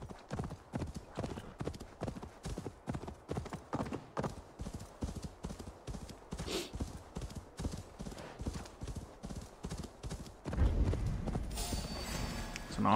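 Horse hooves gallop at a steady, rapid clip-clop in Assassin's Creed Valhalla, loud and close throughout, with a rushing swell of wind or movement near the end.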